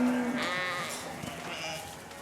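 Sheep bleating on a farm in France, one close wavering bleat early on, then fainter calls from the flock in the background.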